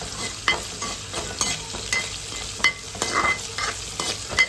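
Tempering for a curry frying in a pan, a steady crackling sizzle with short scraping stirs at irregular intervals, close by and with no voices.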